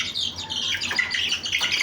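Four-week-old chicks chirping close by, a busy overlapping chorus of high peeps and squawks, steady and fairly loud.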